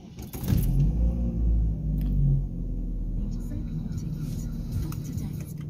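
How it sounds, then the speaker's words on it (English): Keys jangle before a Chevrolet car engine cranks and catches with a deep, loud rumble, then settles into a steady, lower idle hum heard up close inside the car. "So let's say that I'm going to start my car."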